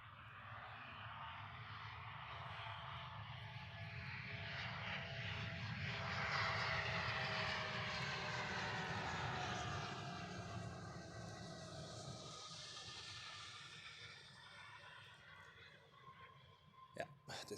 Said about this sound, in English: Looks like a Bombardier Global Express.